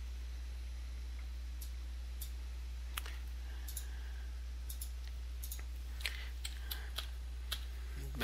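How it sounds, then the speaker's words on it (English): Computer mouse clicks and keyboard key presses, including the right arrow and enter keys, sound as sparse, sharp, faint ticks spread across a quiet room, coming closer together toward the end. "hitting the right arrow and hitting enter a couple times to put some spacing in there"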